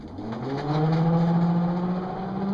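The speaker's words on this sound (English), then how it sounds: "Oh man, that other motor sounds loud." A boat motor drones steadily and loudly, its pitch rising slightly then holding at a constant hum, close by with no talking.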